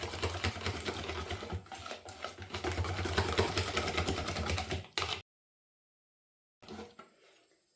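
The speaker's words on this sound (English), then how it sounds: "we'll keep whisking that until we get rid of all those lumps" Pancake batter is whisked briskly in a bowl: a fast, rhythmic clatter runs loud and close for about five seconds, breaks into silence, then returns briefly and more faintly.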